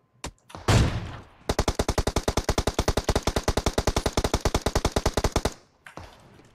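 Automatic gunfire in the PUBG video game rattles out as one long, loud, evenly spaced burst of about forty rapid shots, preceded by a single sharp shot and a blast, with no talk over it.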